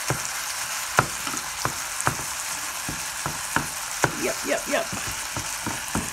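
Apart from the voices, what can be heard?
hamburger meat frying in pan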